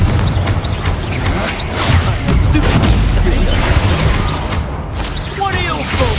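Confringo spell blasts go off in a busy Hogwarts Legacy battle, with repeated thuds and crashes layered under constant voices and dense combat noise.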